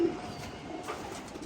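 Pigeons being readied for a racing tournament, with a single soft low coo at the very start, then a dim mix of faint bird calls and scattered hum through the rest.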